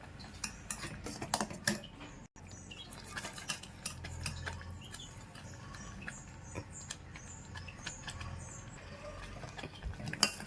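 Fried cashews and almonds being stirred into sweet pongal made with poha and moong dal in a pot: close scraping and clinking of a spoon, with soft thick mixing sounds and no talking.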